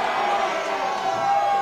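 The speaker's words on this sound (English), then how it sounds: "The crowd's on their feet." A wrestling crowd cheers in a dense, steady roar of voices at moderate loudness, a brief burst of excitement from an audience on its feet at a live show.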